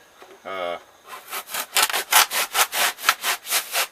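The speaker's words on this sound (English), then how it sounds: "we're going to try the hacksaw blade" A hacksaw blade cutting through foam for tool tray filling, heard as a brief tonal squeak and then a series of rhythmic back-and-forth rasping strokes, close and fairly loud, with no speech.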